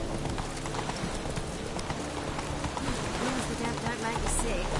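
Roach, a horse in The Witcher 3, gallops in a fast, steady clip-clop of hooves, close and fairly loud over a busy game background.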